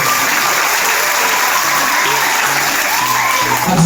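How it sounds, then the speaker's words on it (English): Dense, loud applause from an audience at a primary school ceremony in Kiribati, a steady wash of clapping throughout with faint voices underneath. "Another round of applause"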